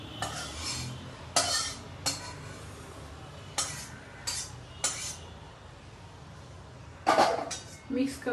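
Besan ladoo mixture being stirred in a pan, with a handful of sharp scraping clinks of a spoon against the metal, spaced irregularly over faint background noise; no talking.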